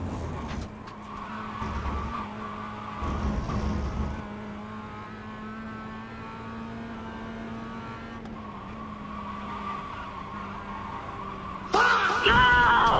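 A race car in a racing video game slides with a steady skidding whine and engine drone, then ends in a sudden loud burst as it crashes; no one speaks over it.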